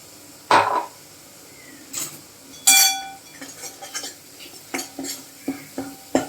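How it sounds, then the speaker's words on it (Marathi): A ground spice paste for black urad dal is stirred and sautéed in a pan with oil. A spoon scrapes and clinks against the metal in scattered close strokes, with a soft sizzle underneath. "आता हे वाटण छान परतायचं आहे जोपर्यंत की तेल असं वरती तरंगून येत नाही"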